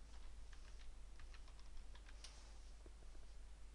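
Close, quiet typing on a computer keyboard: a quick, uneven run of light key clicks over a low background hum, with no voices.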